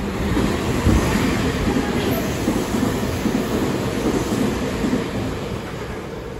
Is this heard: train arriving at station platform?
yes